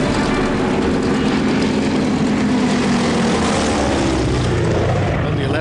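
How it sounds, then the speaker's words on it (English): The droning engines of World War II Japanese bombers give a loud, continuous roar that stays steady throughout. "Japanese bombers headed for the island of Penang"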